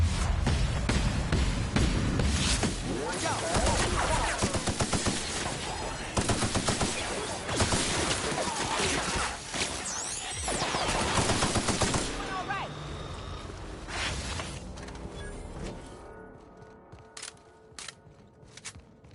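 Loud, rapid gunfire from the player's gun in the video game The Outer Worlds comes in dense bursts, then thins out into scattered shots and fades toward the end.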